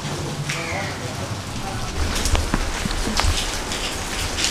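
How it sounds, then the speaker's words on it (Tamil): Heavy rain pouring steadily in Chengalpattu, a dense close hiss of drops pattering on surfaces with gusty wind swells and scattered heavier splashes. "மழை எப்படி போயிது, காற்று எப்படிங்கிறது இந்த இடத்துல அடிக்கிறது நான் காமிக்கிறேன்"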